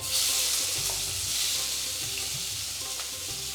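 Steady, crackling sizzle of onions frying in hot oil with popped mustard seeds and cumin, close and fairly loud throughout, with faint clinks underneath.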